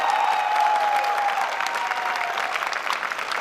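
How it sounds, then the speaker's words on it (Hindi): A room full of students claps warmly at a commerce department welcome party at BZU Multan. The applause is sustained and even, with a brief whistle-like tone near the start. "उनके लिए बहुत सारी तालियां।"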